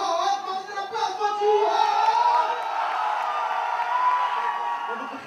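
Crowd cheering, whooping and applauding for an act at a radio party track battle in Paradiso, a dense sustained roar of voices that swells and holds throughout.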